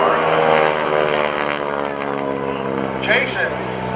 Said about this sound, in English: the Pratt & Whitney engine here has plenty of horsepower